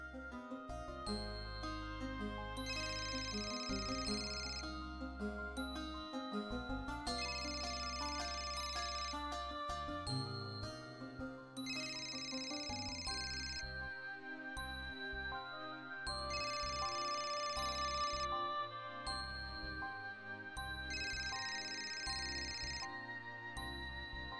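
A phone call rings out unanswered, its repeating bursts of ringtone chimes steady and clear but set over continuous background music, with no voices.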